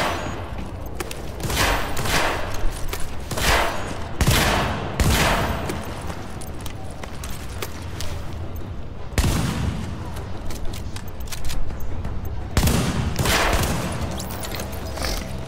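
Rapid turret gunfire rattles in a first-person shooter game, loud and close, in dense repeated bursts with brief gaps between volleys.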